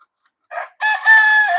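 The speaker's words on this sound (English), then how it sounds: "you just don't need two roosters with your hens" A rooster crows once, close and loud: a short opening note, a brief pause, then a long sustained cock-a-doodle-doo call with no talking over it.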